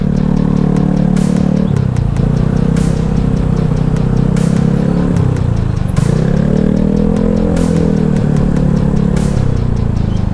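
Motorcycle engines, including a Honda Scoopy, drone close and steady in a night-time traffic jam after rain, with pitch rising and falling as throttles blip and faint clatter recurring every second or two.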